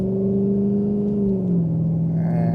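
Jaguar XK8 engine and exhaust heard from inside the cabin with windows up while gently accelerating on an ordinary road, a smooth steady low drone with a slowly shifting tone and no talking.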